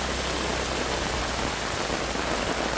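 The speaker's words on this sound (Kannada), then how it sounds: "ಕರಾವಳಿ ಹಾಗೂ ಮಲೆನಾಡು ಭಾಗಗಳಲ್ಲಿ ಮಳೆ ಅಬ್ಬರ ಮುಂದುವರೆದಿದೆ." Heavy monsoon rain falls in coastal Karnataka, a constant dense hiss of downpour drumming on surfaces, even and unbroken throughout with no talk.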